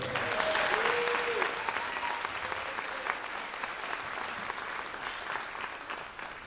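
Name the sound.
audience applause at a band concert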